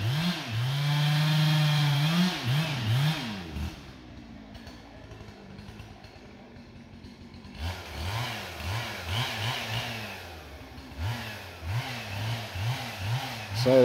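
A chainsaw cuts timber during logging in a strong stand of trees. The engine revs loud and close for a few seconds, eases to a lower idle, then revs again in repeated bursts, with no talking.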